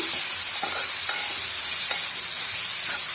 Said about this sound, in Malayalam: ഇനി ഇതിലേക്ക് നമുക്ക് കട്ട് ചെയ്ത് വെച്ചിരിക്കുന്നു നമ്മുടെ ടൊമാറ്റോ കൂടെ ഇടാം. നന്നായിട്ട് മിക്സ് ചെയ്തെടുക്കാം.